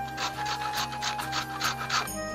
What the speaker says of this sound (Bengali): এই যে গাজরটা ভালো করে ঘষবো, পুরো ঘষে নেবো সবকটা গাজর।